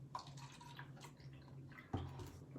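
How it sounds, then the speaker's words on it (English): Water is poured onto an already absorbent Jaimes Jewel pad, a quiet splashing trickle with drips, and a brief louder splash near the end. "we're gonna put a little bit even more water in here"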